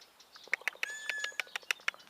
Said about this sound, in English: that's a bird having a fit